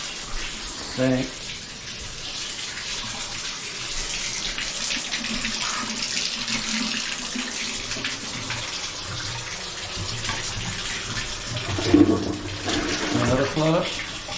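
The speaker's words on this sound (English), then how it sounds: "Another flush." A toilet flushes during a final test after a toilet flange and drain pipe repair, giving a steady close rush of water that swells louder near the end.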